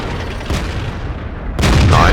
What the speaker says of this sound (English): I see the Waffenträger is aggressive, taking a shot at the AMX 5100